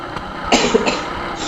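A short, soft cough or two, close by, in an otherwise quiet moment.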